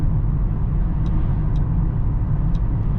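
A 2023 Mercedes-AMG GLB 35 cruising in seventh gear, heard from inside the cabin as a steady, loud low drone of engine and road noise, with a few faint high ticks over it and no talk.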